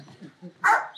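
A dog barking, one short sharp bark near the end of a brief moment of quiet low sounds.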